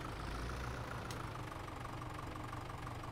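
A tractor engine idles in the Farming Simulator 17 video game, a steady low rumbling drone that runs unchanged and fairly quiet throughout, with no talk.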